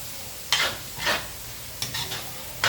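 Carrots and other food sauté in butter in a pan, heard as a soft sizzle broken by four or five short utensil stirs and scrapes, close up, with no speech.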